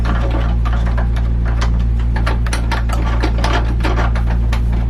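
A Logitech G29 steering wheel's desk clamp being tightened, a steady run of close, rhythmic scraping and ticking turns over a loud constant hum, with no talking.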